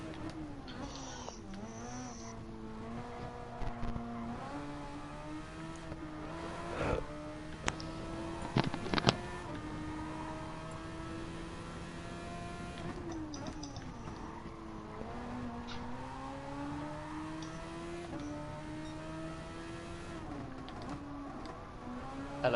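Steady engine whine of a Super Formula race car in a racing game, rising and dropping in pitch through gear changes and corners across the whole stretch, with a few sharp clicks and short bursts over it.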